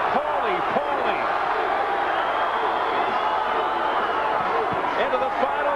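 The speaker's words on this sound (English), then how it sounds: "The crowd chanting, Johnny, Johnny. Another part of the crowd chanting, Paulie, Paulie." Dense boxing arena crowd at a WBA bantamweight title fight between Johnny Tapia and Paulie Ayala, rhythmic chanting of the fighters' names rising from a loud steady roar, with commentary voices talking over it.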